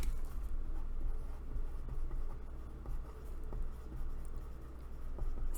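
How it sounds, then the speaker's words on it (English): A pen scratches across paper in short, close strokes over a low hum, soft and continuous, with small ticks as the tip lifts and lands. "That's what I'm writing down."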